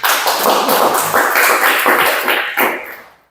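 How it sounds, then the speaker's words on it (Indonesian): An audience claps hands during a classroom guidance session on cyberbullying: dense, loud, sustained clapping that stays steady for about three seconds before trailing off, with no voices over it. "Mari kita tepuk tangan untuk anak Yani."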